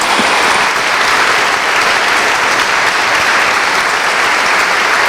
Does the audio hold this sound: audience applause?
yes